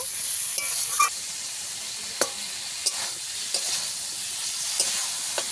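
Masala with tomato being sautéed for a fish curry with potato, a quiet continuous sizzle broken by sharp spatula scrapes and clacks against the pan at irregular intervals, no voices.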